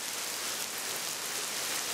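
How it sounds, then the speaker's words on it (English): Steady rain falls and patters on surfaces during a long bike ride across China, a dense, even hiss close by with no voices. "as you can see, once again, it's raining."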